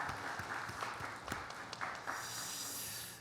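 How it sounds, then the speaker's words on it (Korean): Scattered clapping from a church congregation during a Sunday morning service, a thin, sparse patter of hands that stays fairly quiet throughout with no one speaking over it. "우리 박수로 축하드립니다."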